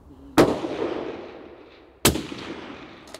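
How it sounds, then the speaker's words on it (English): Two sharp .308 rifle shots, about a second and a half apart, each a loud close crack followed by a long rolling echo across an open range, with no talking. "trying to hit the target furthest left since it's the biggest and I'm shooting shitty 308."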